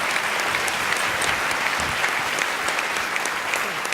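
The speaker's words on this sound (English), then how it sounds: "Deserve a nice round of applause, I think." An audience breaks into dense, sustained applause, many hands clapping together at a steady level from start to finish with no voices standing out.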